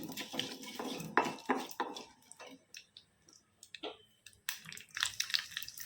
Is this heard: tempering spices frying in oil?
yes